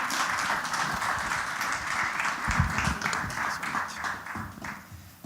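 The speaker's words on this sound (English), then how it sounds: "Let's give a round of applause to our panelists." An audience at a panel discussion on textile sustainability and circularity claps for the panelists, fairly quiet and uneven, with scattered individual claps and a few louder thumps through five seconds.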